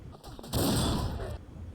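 A blunderbuss fires in the pirate-themed multiplayer game Pirates Vikings & Knights II, a single loud, broad blast with a brief roar that cuts off sharply after about a second.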